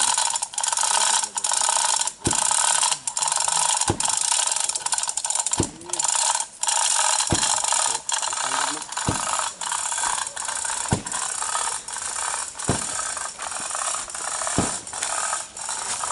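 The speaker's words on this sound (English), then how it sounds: "2 or 3 ton chain hoist that's the Harbor Freight Special there" A Harbor Freight chain hoist rated at 2 or 3 tons ratchets in a steady run of metallic clicks, its pawl and gears rattling close and loud at a regular rhythm for about sixteen seconds.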